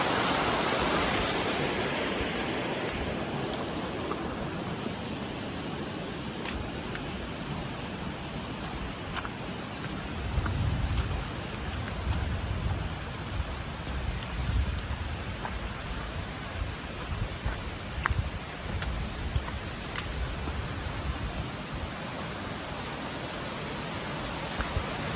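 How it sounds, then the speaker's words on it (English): Torrential downpour on a hiking trail, with rain hissing steadily and heavily and rushing waterfall water underneath, a dense continuous wash of noise with no voices. "hiking in torrential downpour is you have waterfalls where you did not have waterfalls before"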